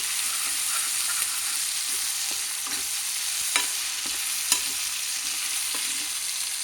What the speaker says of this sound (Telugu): మెత్తబడిన తర్వాత ఆ మిక్సీ పట్టిన గ్రేవీని కూడా మనము వేయించుకుంటాం అన్నమాట.